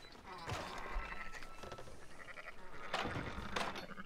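Sheep in the video game Red Dead Redemption 2 give a few soft, wavering bleats at a low level, with quiet talking in between.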